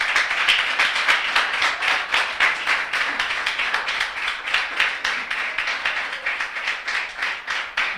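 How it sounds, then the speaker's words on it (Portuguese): Congregation clapping for Jesus in church, a fast, steady rhythmic clapping that runs evenly throughout, fairly loud and close, with no talk over it. "Vamos dar para Jesus uma linda salva de palmas"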